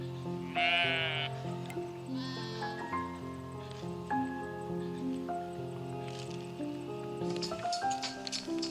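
Sheep bleat at Akha Farmville on Doi Chang in Chiang Rai, Thailand, a loud close call early on followed by a second shorter bleat and softer calls from the flock, with no talk.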